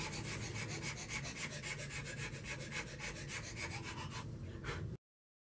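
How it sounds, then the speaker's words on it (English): A hand rasp files steadily over a carved wooden letter opener blade, making rhythmic scraping strokes that are close and uniform, about a dozen passes without speech. "Now we're going to go on to the rasp."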